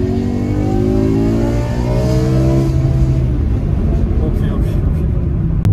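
A BMW M6 E63 with its V10 engine revs hard during a manual downshift into second gear, its loud, close wail climbing in pitch before settling into a deep rumble, with talking over part of it.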